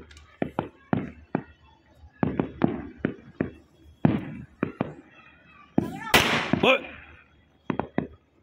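Diwali firecrackers go off outdoors as a series of sharp, loud bangs and pops at irregular intervals, with one longer fizzing, crackling burst near the end. Voices talk faintly among the blasts.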